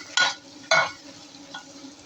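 Onions cooking down in a salted pan for a gongura prawn curry, a low sizzle broken by two sharp stirring scrapes near the start and a fainter one later, no talking.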